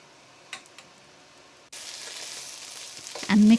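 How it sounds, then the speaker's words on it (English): Steamed hilsa fish gravy is poured into a hot pot of rice and onions for pulao and sizzles loudly up close, with a short stirring scrape at the end. "Then add a few spoons of the steamed fish gravy into the pot."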